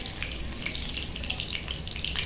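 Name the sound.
loitta fish frying in oil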